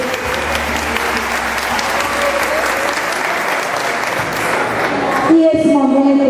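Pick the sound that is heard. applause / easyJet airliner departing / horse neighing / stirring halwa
applause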